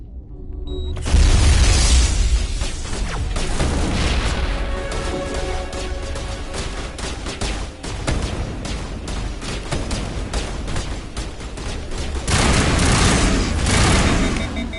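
Gunfire and explosions in the Mass Effect video game on Noveria: a dense, continuous barrage of shots and heavy booms that rumbles loudly throughout, with sharp cracks over a deep low roar and a louder surge near the end.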